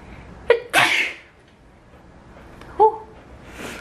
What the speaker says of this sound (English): Every time I sneeze, every animal thinks they have to come check on me.